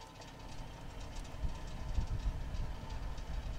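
A car engine idles in a garage with soda pop in its cooling system in place of antifreeze, giving a steady low rumble with slight knocking that swells a little partway through, close and continuous with no talking.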